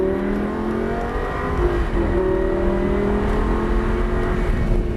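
A car engine accelerates hard on a race track at Motorsport Ranch, a loud, steady roar with rising harmonic tones that swell as power comes on, close and continuous throughout.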